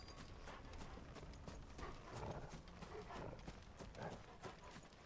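A horse clip-clops in the game Final Fantasy XVI, a quiet, steady run of hoofbeats on firm ground, faint and even from start to finish.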